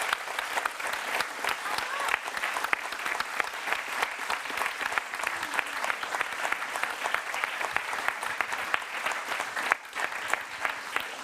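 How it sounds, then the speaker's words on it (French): Sustained applause from a large audience at a publisher's 20th anniversary celebration, steady and dense clapping throughout with no break, loud and close. "je vous propose d'applaudir ce garçon"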